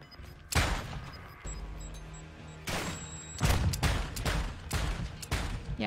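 Heavy gunshots from a revolver in a Call of Duty gulag fight crack out in a series of loud, spaced blasts with booming tails over a steady game background, no voices during the shots.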